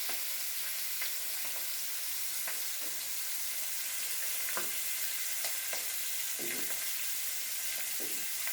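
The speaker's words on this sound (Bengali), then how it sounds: "এই তাওয়ার মধ্যে এই তেলের যে শব্দ, এর মধ্যে খুব সুন্দরভাবে ভাজি হচ্ছে" Pangas fish fries in oil on a tawa with a constant crackling sizzle. Scattered pops and soft scrapes rise over the sizzle, and no one speaks.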